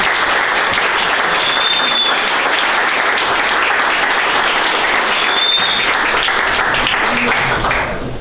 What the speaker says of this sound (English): if the rest of us could give them a round of applause.